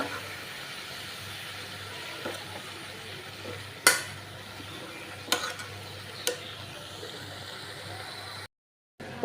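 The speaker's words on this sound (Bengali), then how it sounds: "ভাজা ভাজা করে নিব টমাটোটা" Steady low sizzling of tomatoes frying in a pan with a few sharp clicks of a utensil scraping or stirring, then a brief silence.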